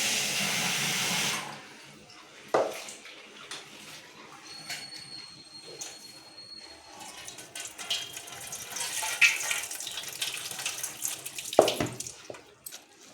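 Tap water runs steadily over sprouted grams being rinsed in a sink, with a rushing stream at the start and scattered splashes and knocks of handling throughout, fairly close.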